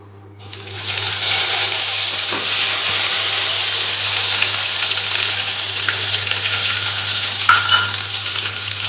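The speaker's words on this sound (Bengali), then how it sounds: "তেল গরম হয়ে গেছে এবার তেলের মধ্যে আমি এই পুরো পেস্টটা কাঁঠাল পাতার যে পুরো পেস্টটা আছে এই পেস্টটা আমি পুরো দিয়ে দেবো" Kharkol leaf paste drops into hot oil and erupts into a loud, close, steady sizzle that starts abruptly after a short quiet moment and holds at full strength throughout.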